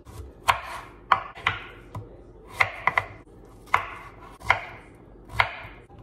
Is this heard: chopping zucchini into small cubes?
yes